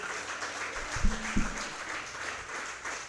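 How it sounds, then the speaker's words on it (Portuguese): Faint, steady clapping from a church congregation at an evening prayer service, with two brief louder thumps near the middle and a low voice underneath. "As palmas engrandecem o nome do nosso Senhor."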